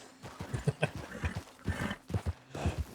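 A horse's hooves clip-clop in the Red Dead Redemption 2 video game, a quick irregular run of soft thuds at moderate distance with short gaps, fairly quiet and without voices over them.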